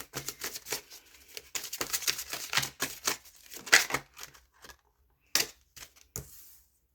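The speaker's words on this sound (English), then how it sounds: "Let me keep shuffling and get some more." Tarot cards are shuffled by hand in quick, papery riffles and flicks that come in irregular bursts, fairly faint and close, with brief pauses between them.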